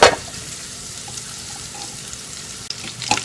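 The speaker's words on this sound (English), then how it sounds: "So we're just going to saute this for about another minute or so." Onions sautéing in a pan for a blue crab coconut curry give a steady, soft sizzle that holds at an even level throughout, with a brief stir or clatter near the start and another near the end.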